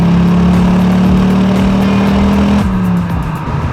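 An Audi five-cylinder turbo engine with several replaced sensors, which leaks oil, idles loud and close with a steady droning hum that shifts tone near the end, and no one talks.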